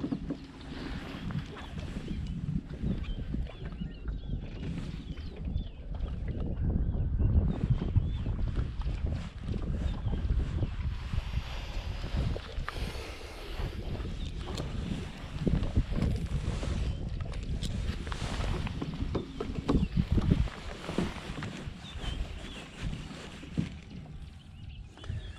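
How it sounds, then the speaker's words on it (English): On a small boat on Inanda Dam, wind buffets the microphone with a constant low rumble and gusty roar, mixed with faint water slapping against the hull, for the full stretch. "I don't know where this wind came from. It's not supposed to be blowing, eh?"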